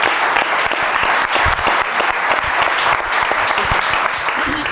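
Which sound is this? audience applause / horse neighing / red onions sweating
audience applause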